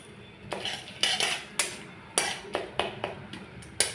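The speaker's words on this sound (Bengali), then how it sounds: "এবার আমি দারচিনি তেজপাতাটা একটু নাড়াচাড়া করে নিচ্ছি" Cinnamon and bay leaves stirred in hot ghee and oil, a series of sharp metallic clanks and scrapes of a spoon against the pot, about a dozen close, irregular knocks over a faint sizzle.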